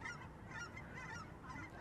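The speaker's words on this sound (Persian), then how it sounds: "پرنده ها دارم برمیگردن خیلی قشنگ" Flying birds call as they return, several honking, goose-like cries repeating faintly in the distance over quiet outdoor background.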